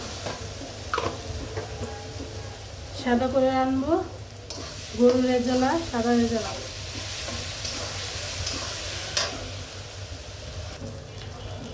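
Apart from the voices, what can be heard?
ginger, garlic and onion frying in a pan, stirred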